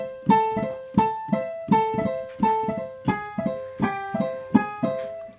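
A piano plays a repeating Latin montuno riff with a quick trill on the middle notes, bright plucked-sounding chords recurring in a steady syncopated pattern, close and clear with no talking.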